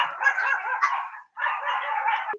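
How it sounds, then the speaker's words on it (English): Dogs bark in two sustained bursts separated by a short gap, loud and near, with yipping and whimpering tones mixed in and no talking. "He's muting because his dogs are going at it right now."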